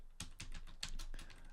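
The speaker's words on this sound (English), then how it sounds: "I don't know why I'm typing with cap locks on." Typing on a computer keyboard, a brisk run of close, crisp key clicks at an uneven rhythm with no talking.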